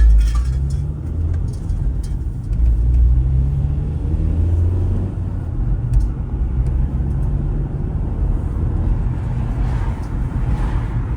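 A car being driven on the road, heard from inside as a steady low engine rumble and road noise for the whole stretch, with slight rises in revs and faint rattles, no talking.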